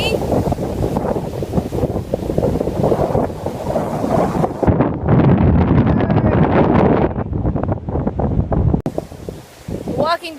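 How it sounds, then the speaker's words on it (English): Strong gusts during Hurricane Gonzalo roar across an outdoor microphone near breaking waves, loud and continuous for the whole stretch with brief dips, while a person speaks over it. "See the wind?"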